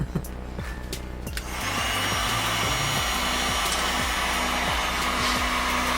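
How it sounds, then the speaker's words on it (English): Heat gun blowing a steady, loud whir in a workshop during a 1994 flathead carburetor rebuild, starting quieter and then building to full airflow, with scattered clicks and knocks around it. "I can heat gun yours up."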